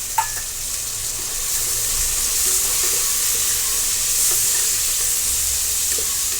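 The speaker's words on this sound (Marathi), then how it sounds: "आता वाटाणा आहे हा एक मोठी वाटी तर मी आता हा तेलामध्ये भाजून व्यवस्थित घेणार आहे" Green peas fry in oil in a pan for masale bhat, giving a steady, close sizzle with soft stirring scrapes throughout and no voices.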